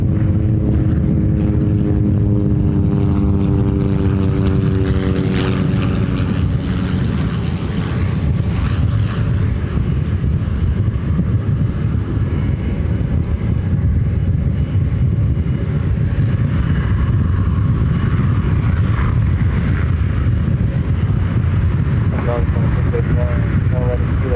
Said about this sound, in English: Got that American A321, this flight coming in from Phoenix, Arizona, now heading to the gates